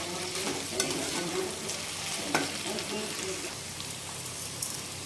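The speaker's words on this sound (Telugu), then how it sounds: "మీడియం ఫ్లేమ్లో పెట్టేసుకొని బెండకాయలను అయితే వేపుకోవాలండి." Okra frying in an oiled pan over a medium flame, with a steady sizzle and occasional stirring scrapes throughout, close and even.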